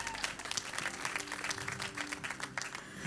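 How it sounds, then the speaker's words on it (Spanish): A church congregation at a Spanish-language service gives loud, dense applause, steady and sustained throughout with many hands clapping at once. "Dale un fuerte aplauso"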